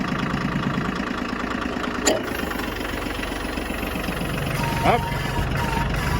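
A John Deere 750 tractor engine runs at a steady, fairly loud idle with a low mechanical rumble, with brief knocks and clunks and someone speaking over it.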